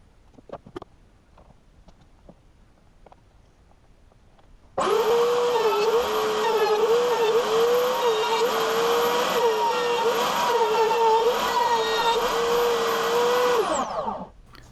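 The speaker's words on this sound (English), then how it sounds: "I then used a 3/8 of an inch roundover bit in the router table to trim the top and bottom edges of the wall plate." A router table with a 3/8-inch roundover bit spins up after a few quiet seconds and runs as a loud, steady high whine for about nine seconds while trimming the edges of a wooden wall plate, then winds down.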